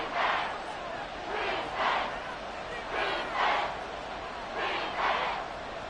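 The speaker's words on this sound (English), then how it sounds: "this is where the Arrowhead crowd can make it very tough" Video game stadium crowd at Arrowhead Stadium in Madden NFL 24 roars in repeated swelling waves, a loud chanting wall of fans rising and falling about once a second over a constant murmur.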